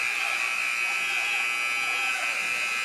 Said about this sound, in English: Little elongated buzzer is what you hear in the back